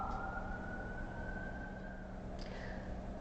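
A faint emergency vehicle siren passes outside, a distant sustained wail that drifts slowly in pitch over quiet background hum.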